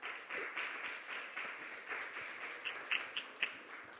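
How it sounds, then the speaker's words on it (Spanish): A church congregation applauds during a Spanish-language sermon, a steady wash of clapping from a crowd with a few sharper, closer claps standing out near the end. "Dele un aplauso al Señor."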